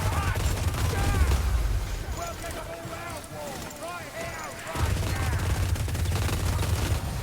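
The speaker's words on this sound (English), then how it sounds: "when I'm shooting the crank gun, I'm dodging a lot" Crank gun fire from the Engineer in the game Hunger in the Dark, dense rapid bursts over a heavy low rumble, with whistling projectile tones in the middle and the steady barrage returning near the end.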